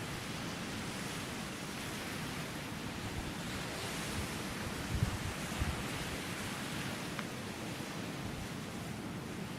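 Ocean waves crash in a steady, dense wash of surf for a game-stream soundscape, holding a constant loud roar with a couple of slightly stronger swells midway and no talking.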